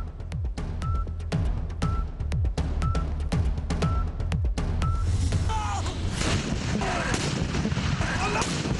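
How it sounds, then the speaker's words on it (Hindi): Booming cannon shots of a 21-gun Independence Day salute in a Pakistani provincial capital, fired at an even rhythm about once a second, each blast sharp and loud with a rolling tail, ending in continuous crowd and ambient noise. "चारों सूबाई दारुल हुकूमतों में 21-21 तोपों की सलामी"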